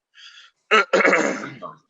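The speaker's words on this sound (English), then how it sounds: "clear your throat" A short breathy sound is followed by a loud, rough throat clearing up close, a couple of harsh gravelly bursts trailing off.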